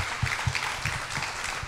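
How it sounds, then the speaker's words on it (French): Audience applause at a presentation, a short burst of clapping from the crowd with steady hands across the room, moderately loud and continuous for under two seconds. "J'aimerais des applaudissements,"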